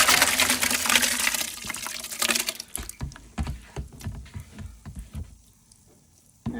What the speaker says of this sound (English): We're going to put them in our pot.